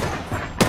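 Gunfire in the Apex Legends video game, a sharp loud burst of shots arriving near the end after a stretch of noisy game ambience.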